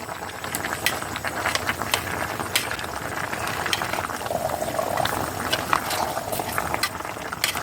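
Eid sacrifice beef curry bubbles in a pot on a clay stove, with a steady close simmering hiss and sharp clicks and scrapes as it is stirred.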